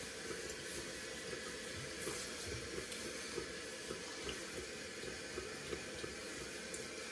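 Water runs steadily from a tap to wet a head before a shave, a soft, continuous splashing hiss at low level with a few small spatters and no speech.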